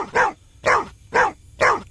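A pet dog named Reagan gives four sharp barks at an even, quick rhythm, loud and close, with brief quiet gaps between them and no voices.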